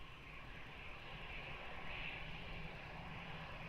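An airplane takes off at Lisbon Airport, a faint, distant steady engine roar with a broad rushing tone that swells slightly and holds.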